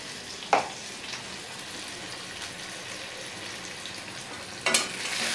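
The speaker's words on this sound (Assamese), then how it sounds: "আলু আৰু বেঙেনাখিনি বহাই দিম ইয়াতে।" Small potatoes and brinjal fry in a pan with a soft, steady sizzle. Two sharp clatters of the utensil against the pan break in, one near the start and one near the end.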